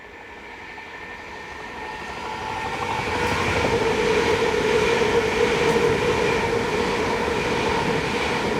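An electric third-rail train in south-east England approaches and rolls steadily past nearby, with a growing rumble and a whining, humming drone from the collector shoe that stays loud to the end.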